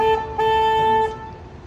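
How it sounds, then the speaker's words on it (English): Two loud, steady boat horn blasts on the San Antonio River Walk, a brief one followed by a longer held tone, sounding close with engine rumble underneath. "I'm going to honk the horn right here to let boats know we're coming out"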